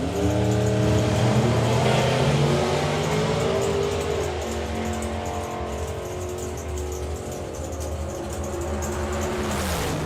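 Drag racing cars making runs down the track at the Summer Nationals, a loud sustained engine roar with rising pitch as they accelerate, then fading slightly as they pull away, with a sharp burst near the end.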